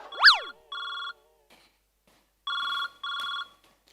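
A telephone rings in an office scene of a Marathi comedy sketch, with a sharp electronic chirp followed by three steady, even ring bursts with pauses between them, close and clear with no talk over it.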